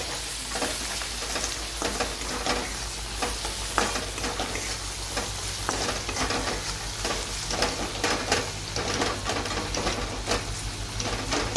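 Tomatoes and onion fry in a pan, sizzling steadily and loudly while a utensil stirs with repeated scraping clacks through the whole stretch.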